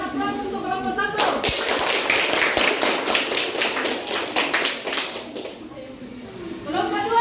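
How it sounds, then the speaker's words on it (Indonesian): Classroom applause for a student group, a dense burst of many hands clapping that starts abruptly, holds steady for about four seconds, then fades, with a teacher's voice before and after. "berikan aplaus untuk kelompok 1."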